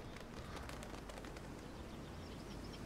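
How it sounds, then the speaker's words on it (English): Birds in the video game Life is Strange: Before the Storm call faintly through steady ambient noise, with soft repeated chirps and coos heard at a distance. "So now there's birds."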